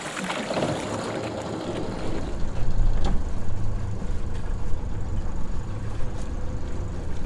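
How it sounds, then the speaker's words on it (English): A sailboat's motor idles steadily to warm up before entering an anchorage, a low continuous rumble with water and wind noise around it, holding at an even level throughout. "So just to get the motor warm before I enter"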